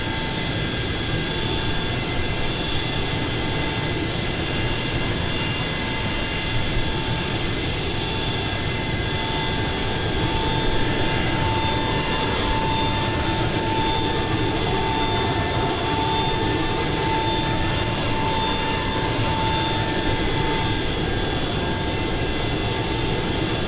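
Jet engines of a Boeing 727-200F freighter in Microsoft Flight Simulator give a steady, loud, unbroken roar with a high whine on top, running without pause and with no voices.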